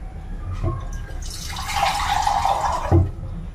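Water pours steadily into a cooking pot for a couple of seconds, a splashing rush between a few soft knocks and clatters.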